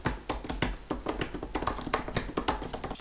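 Keys on a MacBook Pro keyboard are typed in a quick, irregular string of crisp, close clicks and taps heard on their own.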